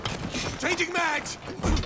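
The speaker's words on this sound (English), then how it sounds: "Changing mags!" A gun magazine is swapped in a shooter video game, giving a quick run of close metallic clicks and ratcheting rattles that finishes with a firm clack, with a brief voice mixed in.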